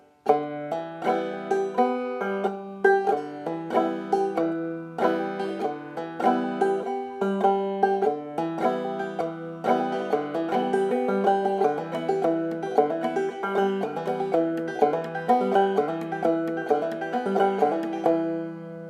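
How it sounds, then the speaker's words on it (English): Clawhammer banjo played solo in drop-thumb style, the thumb dropping to the third string between strikes on the second; a continuous, bright stream of plucked notes in a steady rolling rhythm. "let's do another thing where we do a drop thumb in there"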